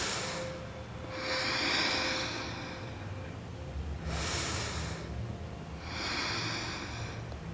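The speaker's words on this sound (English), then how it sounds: "2 more breaths here." Slow, deep breathing through the nose during a yoga class, three long airy inhale-exhale cycles, close and unhurried with no talking.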